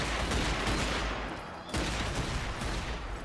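Sustained rapid gunfire shooting zombies in the game Zombie Army 4, a dense, loud volley that briefly pauses and then resumes.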